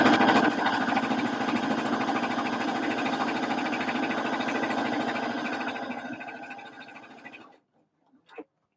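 A sewing machine stitches fabric for a bucket hat with a running bobbin thread, a rapid even needle clatter lasting about seven seconds before stopping, followed by a small handling knock.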